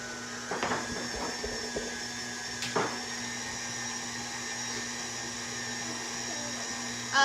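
Stand mixer whirring steadily as it mixes sugar cookie ingredients in a home kitchen, a continuous motor hum with a few brief clacks near the start and no talking.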